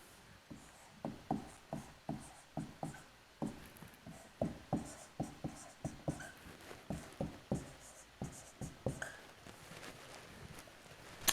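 Marker or chalk writing on a board in a physics lecture, a steady series of quick taps and short strokes, fairly faint and close, with no talk over it.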